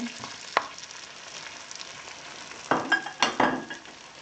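Fresh garden tomato is stirred into frying pinakbet in a pan, giving a faint sizzle with a few sharp utensil scrapes toward the end, heard close and without talk.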